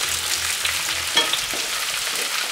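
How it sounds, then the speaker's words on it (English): Chopped zucchini sizzles in a pan with olive oil and garlic, a steady crackling fry heard close with a brief stir clatter midway. "we're going to put it in the pan with some olive oil and a little bit of garlic"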